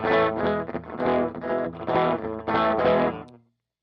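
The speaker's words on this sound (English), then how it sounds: "a darker tone and a little bit of distortion and then slapback" Electric guitar run through a TC Electronic Alter Ego V2 delay pedal set to a dark tone with light distortion and fast slapback, playing several sustained chords with a doubling echo before ringing out.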